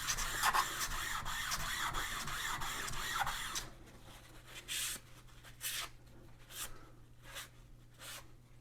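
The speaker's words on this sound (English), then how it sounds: "Hear that zinging noise? It's because this one was never precision ground to begin with. It still has the tool marks on it, and you're hearing the tool marks." A rasping, zinging scrape of abrasive working rust off a milling machine vise surface that still bears tool marks, continuous and fairly close at first, then breaking into short separate strokes.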